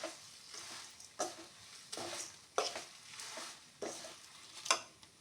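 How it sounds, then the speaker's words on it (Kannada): Cumin seeds sizzle and crackle in a dry pan while being roasted for tomato rasam powder, with a steady patter broken by about six rhythmic scraping stir strokes, close and moderately loud. "ಈಗ ಲಾಸ್ಟಲ್ಲಿ ಜೀರಿಗೆ ಹಾಕ್ತಾ ಇದ್ದೀನಿ"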